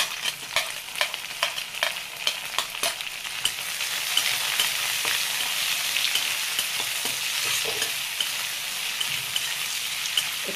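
Onions with ginger pieces fry in a pan, making a steady sizzle punctuated by frequent sharp clicks and scrapes of stirring.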